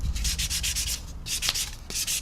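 An old, smooth sanding sponge is rubbed back and forth over the painted surface of a 1/144 Zvezda Boeing 737-800 plastic model airliner, making close, steady rhythmic scratchy strokes with brief pauses and no voices.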